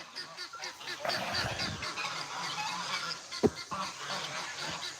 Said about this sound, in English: So there's some more ducks over here.